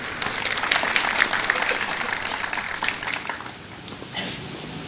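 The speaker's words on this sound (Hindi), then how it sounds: "आपके लिए एक बहुत बड़ी ताली हो जाए।" An audience claps in a continuous dense patter that starts strongly, thins out toward the end and gives way to a brief final burst.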